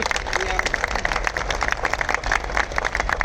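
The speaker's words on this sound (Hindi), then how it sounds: "मैं चाहता हूं कि जोरदार तालियों से," An audience claps steadily at a Bar Council of Delhi gathering welcoming the Delhi Chief Minister, a dense patter of hand claps mixed with murmuring voices throughout.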